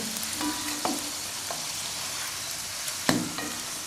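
A lettuce-stem pancake frying in a pan in a rural home kitchen, with a steady oily sizzle and two sharp clacks as it is flipped over.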